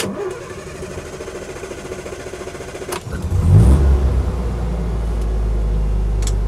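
A Land Rover Lightweight with a 2.2 petrol engine cranks and catches at about three seconds, then revs briefly with a little throttle before settling into a steady, close, rumbling idle.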